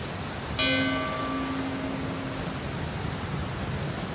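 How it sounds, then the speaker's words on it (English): A single struck bell rings out with a clear, sustained tone that slowly fades over a steady bed of rain-like background noise, used as a doorbell sound effect in a Sherlock Holmes audiobook. "That was surely the bell."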